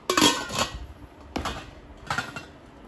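Three sharp clanks and clatters of a large 5-litre metal cooking pot with a glass lid being handled, close and fairly quiet, spaced about a second apart with brief ringing after each.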